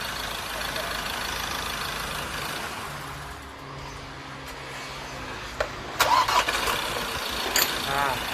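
A Ford Ranger engine cranks and catches after an EGR valve replacement in a repair shop, settling into a low idle with a few sharp clanks near the end while people talk over it.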